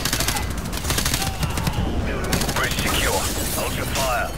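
Rapid automatic gunfire from a Call of Duty: Modern Warfare Remastered ship-deck mission fills the scene with dense, continuous bursts, while voices talk faintly underneath.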